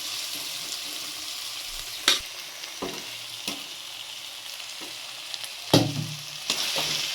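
Green beans, potatoes and fried cauliflower sizzle steadily in a cooked-down spice paste with Kashmiri chili powder, a continuous close hiss broken by a few sharp utensil clanks against the pan.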